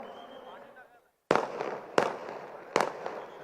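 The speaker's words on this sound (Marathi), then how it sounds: "अरे जे फटाके 16 तारखेला फोडायचे आजच फोडून राहिले" Firecrackers burst in three sharp, loud bangs about a second apart, each with a short noisy tail, after a quieter stretch of background murmur.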